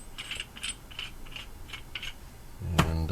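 A valve spring compressor being opened up, a run of quick metallic ratcheting clicks close up, ending in a louder clunk and ringing clatter.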